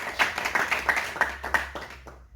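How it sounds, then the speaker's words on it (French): A small audience at a French-language church talk on engagement claps together in a brief burst, a handful of distinct hand claps ringing out nearby before quickly tapering off into quiet. "Est-ce qu'on peut acclamer tous ensemble?"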